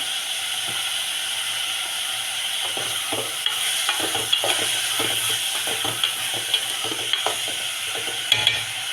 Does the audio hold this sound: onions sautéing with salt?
yes